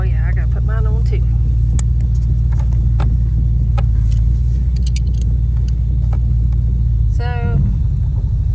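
A car on a test drive with new wheels and tires gives a steady, close, deep engine rumble from inside the cabin, with voices talking briefly at the start and near the end.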